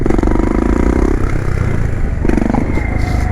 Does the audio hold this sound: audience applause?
no